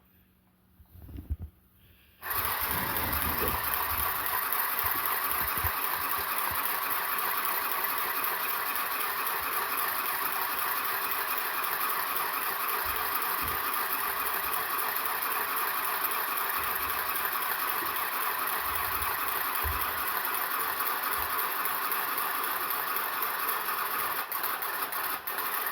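An electric hand sewing machine starts after a couple of seconds of faint handling sounds, then runs continuously with a steady, dense, buzzing mechanical whir at close range, with a few soft knocks underneath.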